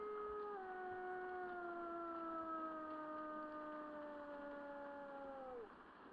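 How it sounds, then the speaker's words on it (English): A long, steady howl from a cartoon railway show, with a sliding, slightly falling pitch, holds for about six seconds, then drops off abruptly near the end. "Did anyone else hear some howl come from outside?"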